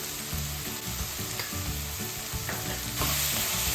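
Onion with a pinch of salt sautéing in a pan, a steady close sizzle and fry with occasional stirring scrapes, no voices.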